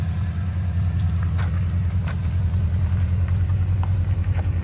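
A Porsche Cayenne S with a 4.8L V8 engine and Vibrant quad-tip exhaust with a bottle resonator idles loudly nearby, a deep, steady rumble with a slight pulsing throb and no voices.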